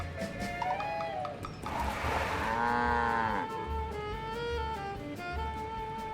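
A cow in a Nancy Drew video game gives a single drawn-out moo in the middle, clear and fairly close, set against quiet background game audio with no talking.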